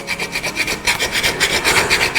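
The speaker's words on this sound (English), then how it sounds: "So I'm going to grate that into there with my nutmeg grater." Nutmeg is grated on a nutmeg grater for a Christmas pudding, a close, dry rasping scrape repeated in quick regular back-and-forth strokes.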